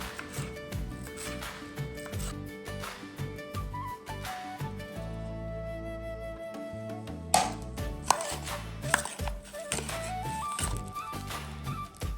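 Knife chopping tomato, cucumber and carrot for a salad: steady, close cutting strokes on a board, running under continuous background music with a few sharper knocks near the end.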